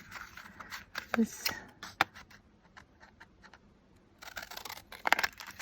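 Scissors snip a paper craft tag at an angle, a few sharp crisp cuts close by with soft handling noise between them, while someone talks quietly over the work.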